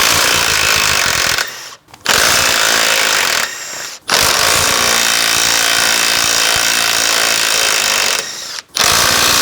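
A power tool, likely an impact wrench, rattles loudly in three long bursts with short pauses between, working rusted 18 mm bolts off a Dodge Ram brake assembly, with no talking.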